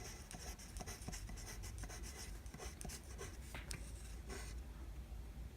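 A pen scratches across paper while working out a quadratic math problem, a faint, continuous scribbling with small rhythmic strokes and soft taps.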